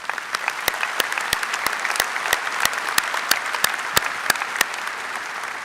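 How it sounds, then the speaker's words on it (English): A university commencement audience applauds Mr. Kinzenbaugh at Iowa State's spring undergraduate ceremony, a broad even wash of clapping with sharp individual claps standing out nearby, continuing throughout. "Another round of applause for Mr. Kinzenbaugh."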